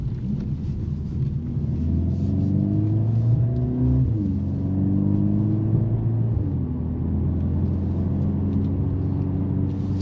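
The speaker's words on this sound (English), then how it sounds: "this car has a real exhaust system, real exhaust sound" Mercedes-AMG CLA 45 S Coupe exhaust in Sport Plus mode, revving through a few rising gear pulls with a deep, steady rumble, heard from inside the car.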